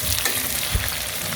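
Onions fry with spices for chicken biryani, a loud, dense, continuous sizzle heard up close with a soft stirring thump partway through and no talking.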